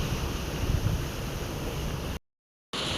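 Continuous roar of ocean surf with wind buffeting the microphone, steady and loud, briefly cutting out near the end before resuming.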